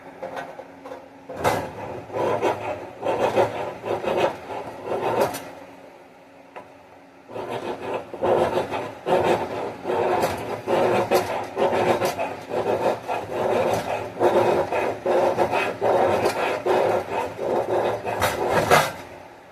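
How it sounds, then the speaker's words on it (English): Spine of a survival knife scraping a magnesium block, a long run of rapid, rough rasping strokes, loud and close, with a short pause partway through. "Seems like it's scraping pretty good on the magnesium block."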